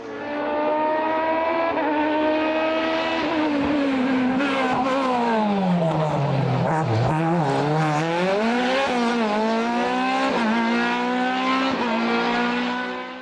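Norma M20 FC 2-litre group CN race car climbing a hill-climb course at Abreschviller, the engine loud and close, revving hard through rising and falling gear changes with no pauses.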